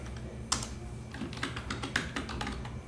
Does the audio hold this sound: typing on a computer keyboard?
yes